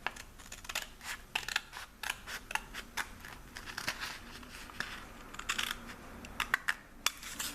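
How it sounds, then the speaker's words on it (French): Scissors snipping through a paper envelope along its fold, a run of crisp, quick cuts and soft paper crinkles close by with no talking. "Et on recoupe au niveau du pli."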